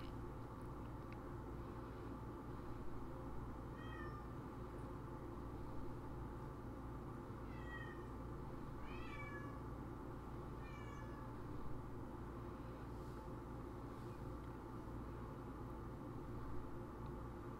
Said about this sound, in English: but my cat is meowing.